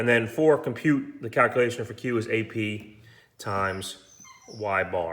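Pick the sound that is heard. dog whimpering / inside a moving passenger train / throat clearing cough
dog whimpering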